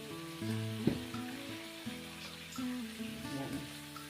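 Shrimp with winged beans and long beans sautéing in a pan, giving a steady close sizzle and crackle with a few stirring knocks and no talking.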